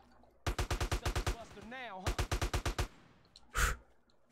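AK-47 fire in GTA San Andreas: two distinct bursts of about nine evenly spaced shots each, close and punchy. A voice sighs between the bursts and a single louder blast follows near the end.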